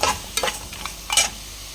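Mutton pieces frying in a pan for mutton gravy with salt and turmeric added: three or four short bursts of stirring and scraping over a soft, steady sizzle, close by with no voices.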